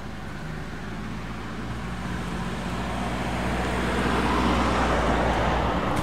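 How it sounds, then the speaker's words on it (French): A car approaches along an outdoor road, a broad engine and tyre rumble that grows gradually louder as it nears, with no talking. "il y a encore une bagnole qui arrive"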